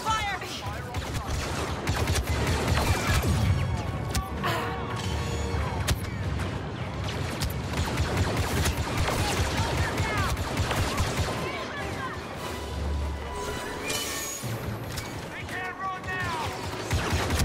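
Blaster gunfire in a Star Wars Battlefront II firefight, dense volleys of rapid zapping shots with crashes and impacts, loud and continuous across the whole span, with voices mixed into the chaos.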